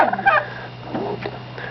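Fowl calls ring out at a village poultry farm where turkeys, chickens and roosters are kept, a burst of throaty cries at the start, then quieter, scattered calls in the background.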